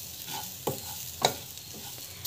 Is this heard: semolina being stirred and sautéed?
yes